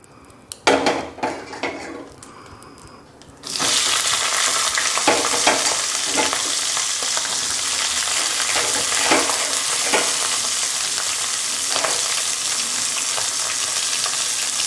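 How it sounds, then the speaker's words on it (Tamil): A few quiet utensil clinks come first, then cut green chillies drop into hot oil and a loud sizzle bursts in, holding steady with intermittent spoon scrapes. "எண்ணெய் காஞ்ச பிறகு ஏற்கனவே நம்ம கட் பண்ணி வச்சுருக்க பச்சை மிளகாவை போட்டுக்கலாம்"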